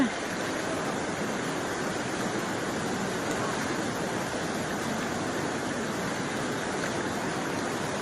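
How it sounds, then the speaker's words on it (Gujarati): Water pours in a strong, steady flow through the breached bank of the Ojat river, a continuous even rushing roar with no pauses, heard from close by at moderate level. "આ પાણીનો ફૂલ પ્રવાહ છે અહીંયા ઉભાતું પણ નથી"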